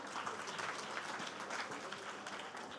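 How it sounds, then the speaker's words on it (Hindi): Steady, dense clapping from a large audience for a speaker at a school event in Mumbai continues throughout, loud and even with no pause. "जोरदार तालियां"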